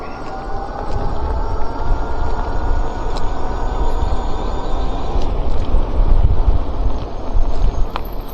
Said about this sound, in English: It's going to keep getting windier as I go.